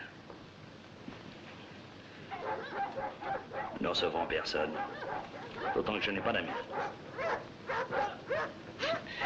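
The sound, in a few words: dogs barking and whimpering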